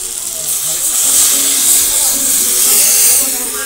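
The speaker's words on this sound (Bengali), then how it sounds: "এবার এর মধ্যে দিয়ে দেবো নারকেলের দুধটা" Coconut milk poured into a hot pan of fish masala curry, a loud steady sizzling hiss that swells and holds, close up, with someone talking over it.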